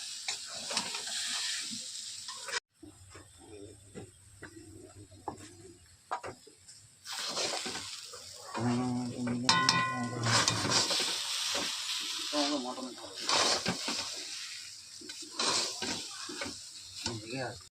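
Taro greens (kochu shak) cook down in a pan at a home festival kitchen, giving soft sizzling and repeated scraping of a spatula while stirring, with voices talking intermittently over the close cooking sounds.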